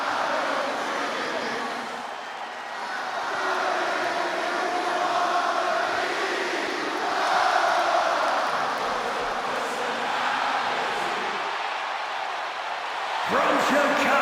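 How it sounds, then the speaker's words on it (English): A large wrestling arena crowd roars in a sustained ovation for CM Punk in WWE 2K26, a continuous wash of cheering that swells and dips under a commentator's voice. "Just listen to this ovation for the Second City Saint."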